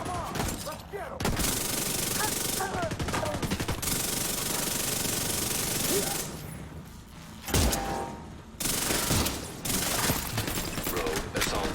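Dense automatic and burst gunfire from the shooter game The Division 2 rattles almost continuously, with brief lulls and sharp louder shots, while a voice speaks faintly underneath.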